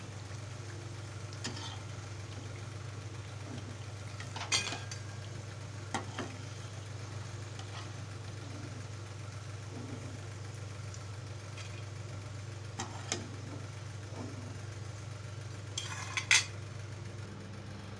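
Steady oil sizzling as potato fritters fry in a pan, with a low constant hum, punctuated by a few soft clinks and stirring scrapes.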